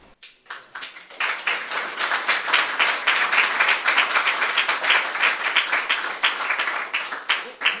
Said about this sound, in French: ils méritent justement d'être applaudis pour leur audace et leur intelligence